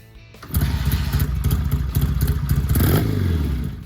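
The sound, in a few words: Triumph Bonneville T140 motorcycle engine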